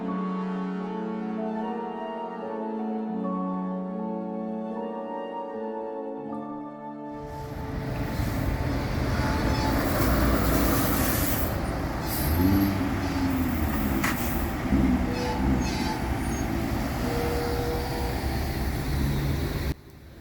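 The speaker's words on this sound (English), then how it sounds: "train heading west with NS 1036 leading" A westbound Norfolk Southern freight train with locomotive NS 1036 leading rolls past on the Cleveland line near the Maple Heights intermodal facility, arriving after a quiet opening as a loud, steady rumble of wheels and cars that fills the rest of the stretch.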